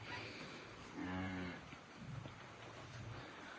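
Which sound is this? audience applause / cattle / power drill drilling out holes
cattle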